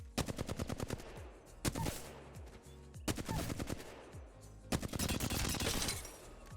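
Flatline assault rifle firing in Apex Legends, loud close automatic bursts of rapid shots in three or four strings separated by brief pauses, with no talking.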